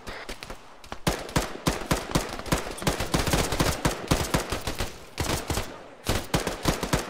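Arma 3 gunfire during a horror mission: dense rapid bursts of rifle and machine-gun shots crackling almost continuously, with short pauses between volleys and no talking.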